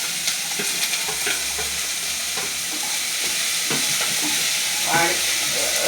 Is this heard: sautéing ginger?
yes